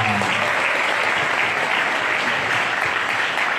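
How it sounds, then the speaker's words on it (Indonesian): Dense, steady applause from an audience at an Islamic and creative competition event, a continuous wash of many hands clapping close by, filling the whole stretch without pause. "tepuk tangan dulu untuk Kang Asep dan Kang Nanta."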